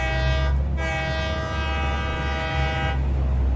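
A loud, sustained train horn blares twice over the continuous rumble of a moving train in the game Satisfactory, close and dominant throughout.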